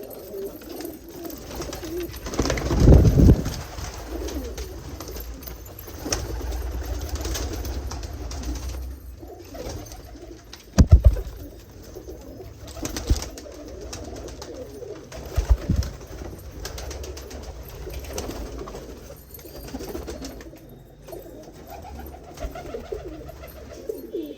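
Pigeons kept by a breeder coo repeatedly at close range, soft low calls recurring throughout with a few brief louder knocks and rustles, no talking.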